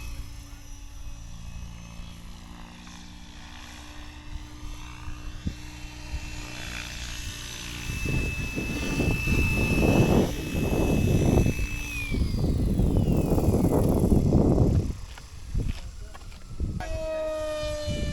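A C-27J aircraft lands with a loud, rising roar of engines and rushing air building through the middle, then easing off. Tonal whines slide downward over the noise, and occasional voices are heard under it.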